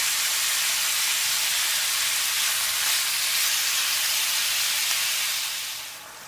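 Beef browning in a pot for stew gives off a loud, continuous sizzling hiss that stays even throughout and then tapers off slightly at the end.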